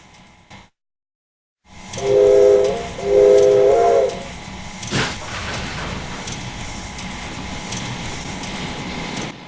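A Pennsylvania Railroad steam locomotive hauling a freight train, its whistle sounding in two short blasts over a steady chuffing, rumbling run, with a sharp hiss of steam midway.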